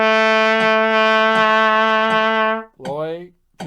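A trumpet holds a low B on the second valve in steady half notes, forming one long, bright, sustained tone, loud and close, followed by a short burst of speech and a brief pause.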